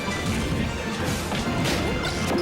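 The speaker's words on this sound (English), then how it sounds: "one of the first down smashes we see in this matchup coming out from Bladewise" Peach's down smash connecting in a Project M Super Smash Bros. match, a dense run of smashing, crashing hits layered over busy game effects and crowd noise, loud and continuous throughout.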